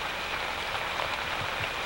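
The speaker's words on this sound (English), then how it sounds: "It's been raining all day long." Steady rain falls all around, a dense, even hiss of drops on surfaces that holds without pause, close and fairly loud.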